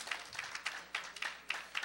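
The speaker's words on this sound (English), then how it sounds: "give the Lord a great big hand clap" A church congregation claps in a quick, uneven rhythm, a few sharp hand claps in a row, fairly faint and distant.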